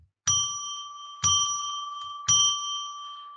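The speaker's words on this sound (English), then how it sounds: "we do that by ringing a bell three times to declare sacred space." A bright bell is struck three times at steady intervals about a second apart. Each strike rings clearly and sustains, then slowly decays before the next, with no talking.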